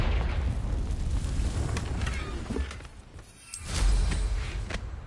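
The Confringo fire spell erupts in Hogwarts Legacy as a cluster of booming blasts with crackling bursts, falling briefly quiet before a second strong rumbling explosion swells up, loud and close.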